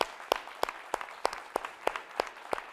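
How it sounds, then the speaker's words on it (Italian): Audience applause for a band's drummer comes as sharp, evenly spaced claps in a steady rhythm, roughly three per second, close and distinct over a faint background wash of clapping. "siete pronti per l'applauso a casa?"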